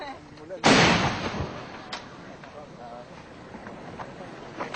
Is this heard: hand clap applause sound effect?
no